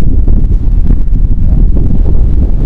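Strong southwest monsoon (habagat) wind during Typhoon Betty in Baler, Aurora, Philippines, buffets the microphone with a constant low roar and gusty rumble, no voices present.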